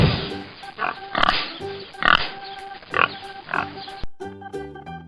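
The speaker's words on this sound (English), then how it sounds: "Great job! It's a pig." A pig gives a series of short, grunting oinks in quick bursts, fairly close and loud, over a light musical backing.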